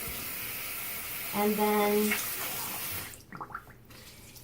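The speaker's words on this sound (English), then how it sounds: "Let me rinse this with warm water." Warm water runs from a tap during a cleaning demonstration, a steady broadband rush with a brief gurgling stretch near the middle, cutting off abruptly toward the end; a person speaks briefly over it.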